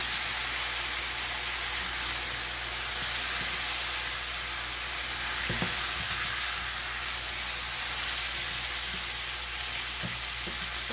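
Chicken coated in masala fries in a pan with a loud, steady sizzle and hiss throughout, with a few faint knocks of stirring.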